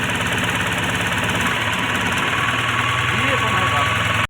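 A Mahindra Maxximo passenger vehicle engine, freshly refitted, idles steadily up close with an even, continuous mechanical throb that runs unbroken until the end.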